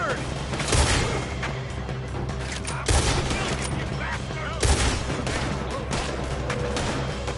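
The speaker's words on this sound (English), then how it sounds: "Why are they all shooting at me?" Volleys of enemy gunfire in Red Dead Redemption 2, loud sharp shots and rapid overlapping fusillades with heavier booming bursts throughout, close and relentless, with a voice speaking over the shooting.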